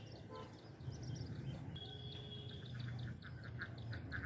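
A duck quacks in short repeated calls over a steady low rumble of background noise, with other birds chirping faintly now and then.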